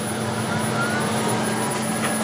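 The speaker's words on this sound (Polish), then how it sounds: "Ok, nasze wrzeciono teraz pracuje" The spindle of a column-type CNC milling machine fitted with a Chinese tapping holder runs with a steady, loud broadband whir and a constant tonal hum, close and unbroken.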